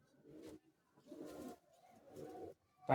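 Pigeons at a pigeon club competition give three soft, low cooing bursts, close and quiet, separated by short pauses.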